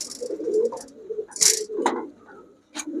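Pigeons at a pigeon shop coo in low bursts amid handling noises and a sharp metallic clink, with the birds fluttering and scuffling close by; no one talks.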